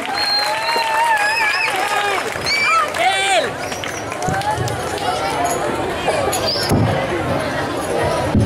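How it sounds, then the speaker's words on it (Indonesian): An audience applauds contestant number 5 at a competition or show, a sustained burst of clapping and crowd noise mixed with loud voices and tonal vocal sounds over it. "Sekali lagi beri tepuk tangan yang meriah."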